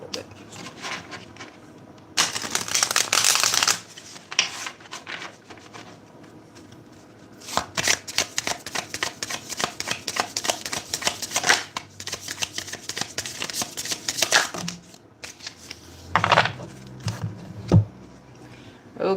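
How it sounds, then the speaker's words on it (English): A deck of tarot cards is shuffled by hand in bursts, with crisp riffling and slapping runs near the microphone separated by short pauses, with no talking. "Let me shuffle these up a little bit."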